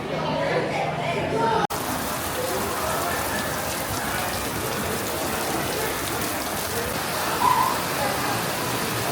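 A rain storm pours down steadily outside a dining room at Anakeesta, a dense, even hiss of falling water that continues almost unbroken, with one brief dip early on.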